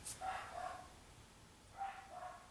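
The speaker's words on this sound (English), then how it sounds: "That's a dog. That's not a rhino" A dog gives two quick pairs of barks, fairly faint and somewhat distant, separated by a short pause, against a quiet background.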